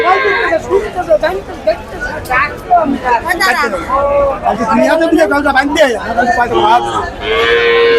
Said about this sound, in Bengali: সবই বাছুর গরু।